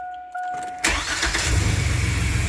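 A 2000 GMC Safari engine cranks and catches after a throttle position sensor replacement, then settles into a loud, rough idle with rising revs, heard up close with no talking.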